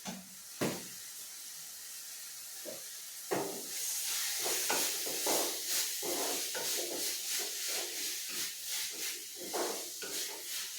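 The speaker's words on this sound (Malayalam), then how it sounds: "പച്ച മണം മാറുന്നത് വരെ ഇതൊരു എണ്ണയിൽ ഇങ്ങനെ ഇളക്കി കൊടുക്കും." Spice paste for sardine peera, seasoned with pepper powder, stirred and fried in oil in a pan: a steady sizzling hiss broken by repeated scraping stirs, close and fairly quiet, with no talking.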